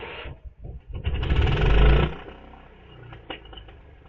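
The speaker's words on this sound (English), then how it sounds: "Now lastly for this power outage is the outside camera view of just the generator startup." A standby generator starts up outdoors during a power outage: a loud, rough roar builds and peaks over about a second, then settles into a lower, steady engine run with a few faint clicks.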